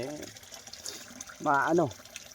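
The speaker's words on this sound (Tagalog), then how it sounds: "Malinis yung nilalabas ng tubig." Clean water pours steadily from an outlet fed by a spring or water source, a continuous soft rush with voices talking over it at moments.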